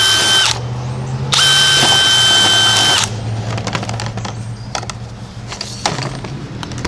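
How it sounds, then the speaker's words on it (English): A power drill bores holes through vinyl siding during a home remodel: two loud high-pitched whirring bursts, then rattling and handling noises up close. "So we'll go ahead and drill our holes first."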